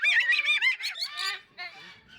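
Rescued birds at a rehabilitation sanctuary give a quick series of loud, nasal, goose-like honks, several calls in a row, then trail off into softer, fainter calls.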